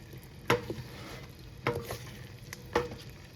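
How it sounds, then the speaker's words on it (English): Cooked chokecherries being gently mashed to press out juice, three distinct soft squelching presses spaced about a second apart, close and fairly quiet with no talk. "gently mash it down so I get all the juice I can out of it"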